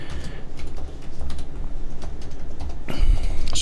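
Typing a passphrase on a computer keyboard, with rapid clustered key clicks over a steady low hum and a louder burst of keystrokes near the end; no one speaks.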